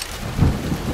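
Rain and thunder in the stealth game Shadow Tactics: Blades of the Shogun, a dense wash of rainfall with a deep thunder rumble swelling near the middle of the brief moment, no voices.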